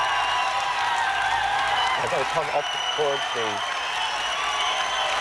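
Crowd of families cheering and applauding outside the court at the 1991 release of the Birmingham Six, a steady wash of noise throughout with someone talking over it.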